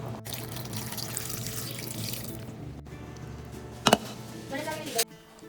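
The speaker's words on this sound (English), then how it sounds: "We're going to take just regular water and cover the cabbage." Water gushes steadily from a tap into a pot of cabbage, a continuous splashing rush, ending with a couple of clunks as the flow stops.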